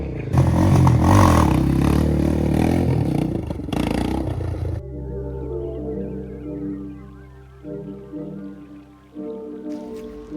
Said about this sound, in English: he's brought the quad out because it's got headlights. And he's trying some wheelies